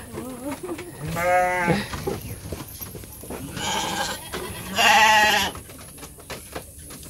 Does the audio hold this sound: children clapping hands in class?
no